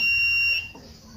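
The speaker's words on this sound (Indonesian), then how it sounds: "kita gunakan buzzer dari avometer nih." Continuity buzzer of a multimeter set to buzzer mode, giving one steady high-pitched electronic tone that holds for about half a second and then cuts off, leaving faint background hiss.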